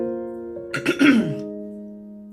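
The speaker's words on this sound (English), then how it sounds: "I get to the end, I have to clear my throat" A single throat clearing, a short rough burst over a steady hum, then quiet.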